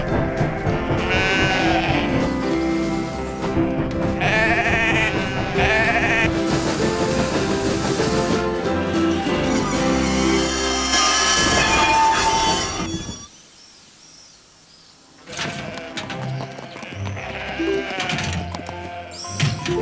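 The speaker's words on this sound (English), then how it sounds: "at least the sheep are enjoying our strawberries, Alf." Sheep bleat repeatedly in a loud outdoor scene, their wavering calls layered over music, with a brief quiet gap before the bleating and music return.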